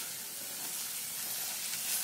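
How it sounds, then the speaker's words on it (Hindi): Gram flour roasting in hot oil for a drumstick curry makes a soft, even hiss that holds steady and fairly faint for the whole stretch, with no other sounds. "1 चम्मच और 1 चम्मच बेसन, बहुत अच्छी टेस्ट आती है। एक मिनट तक भून लेंगे।"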